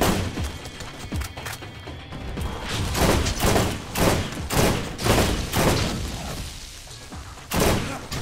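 Bursts of gunfire in Borderlands aimed at an enemy turret, repeated loud rapid volleys and booms in uneven clusters over several seconds, with no talking.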